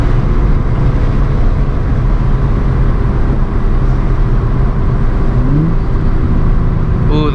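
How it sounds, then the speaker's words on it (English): Nissan 350Z with a manual transmission, stock, driven on a backroad, heard from inside the cabin as a steady loud engine drone with rising and falling rev sweeps near the end as it downshifts. "Ooh, those downshifts though."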